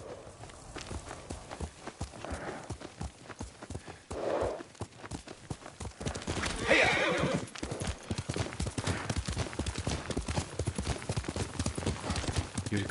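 Steady clip-clopping hooves of a horse in Ghost of Tsushima continue throughout, with the horse neighing loudly midway and softer snorts scattered around it.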